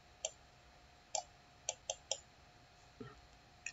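Computer mouse clicks while working in PowerPoint: about six crisp, quiet single clicks spaced irregularly over a few seconds, a couple in quick succession, against a faint steady hum.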